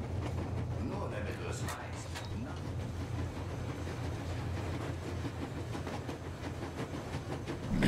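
A moving train in the video game Metro Exodus rumbles steadily with a low continuous roll and faint rhythmic clatter, a constant mechanical bed throughout.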